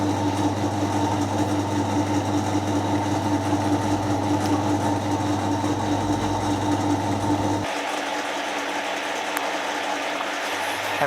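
A Miele Novotronic washing machine runs a spin cycle after repair, a steady close mechanical whir and hum that carries on throughout, dropping its low rumble partway through while the higher motor whine continues.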